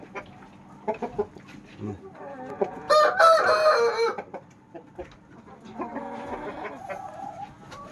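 A young rooster crows once, loud and nearby, amid scattered clucking and someone talking in the background.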